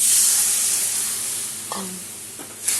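Water poured into a hot pan for chalta chutney bursts into a loud hissing sizzle that gradually fades, with a couple of light utensil knocks toward the end.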